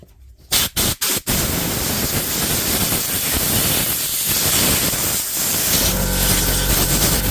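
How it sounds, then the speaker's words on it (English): Compressed air blasting dust out of a worn Panasonic EY74A2 cordless drill: a few sharp puffs, then a loud continuous close-up hiss lasting several seconds. "I'm going to get the compressor and give it a bit of a blow"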